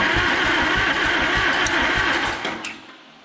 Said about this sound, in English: I'm going to turn this engine over, and the ignition system's not on